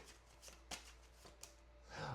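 Oracle cards being shuffled by hand, soft papery riffles and taps in quick uneven bursts, close and quiet.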